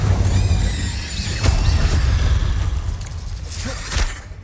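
A fire spell, Incendio, is cast in the Hogwarts Legacy game, a dense rushing burst of flame with booming, crackling impacts over a steady low rumble, fairly loud and continuous, flaring again near the end.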